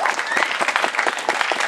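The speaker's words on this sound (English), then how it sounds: "Round of applause for Jeff Chittister" Crowd applause at an outdoor political rally in Concord, New Hampshire, a steady dense wash of many hands clapping at once, loud and sustained throughout.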